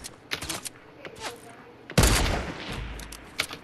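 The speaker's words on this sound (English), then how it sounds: "I'm getting shot at." Gunfire in a Fortnite match: a few scattered light shots, then a loud, sharp burst of rapid fire with a booming low tail, and one more shot near the end, with no talking.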